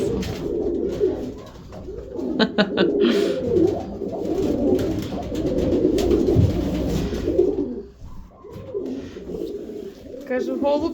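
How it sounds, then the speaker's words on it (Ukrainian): Pigeons coo softly in repeated low, throaty phrases, with people talking nearby throughout. "Красивий голуб."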